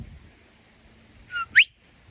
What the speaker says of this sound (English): And when I whistle, they'll come running.